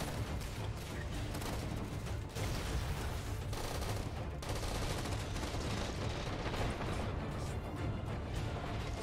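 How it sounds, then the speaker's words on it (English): Gunfire in the video game Halo 4, a dense, continuous barrage of rapid shots and blasts that stays loud throughout with no breaks. "Oh, this gun is so good! The gun that I got."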